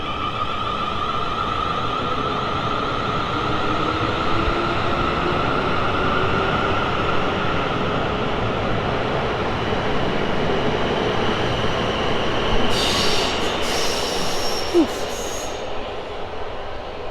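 A train pulls out of Farnborough station on the South Western Main Line with a loud, steady rumble and rolling wheel noise throughout. A brief higher squeal and clatter rise near the end.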